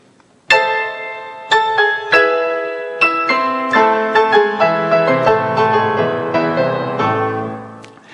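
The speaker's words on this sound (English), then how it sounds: "You should say Piano Concerto by Grieg." Piano plays the opening of Grieg's Piano Concerto: a loud struck chord, then a descending run of bright repeated notes and chords building in density, close and with no talking.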